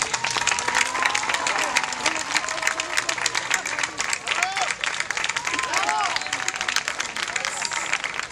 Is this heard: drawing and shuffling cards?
no